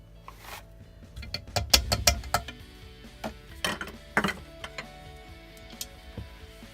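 A spoon knocks and scrapes against a bowl while air dry clay is mixed with a quarter cup of corn flour: sharp, irregular clinks and taps, close and fairly quiet, with no talking.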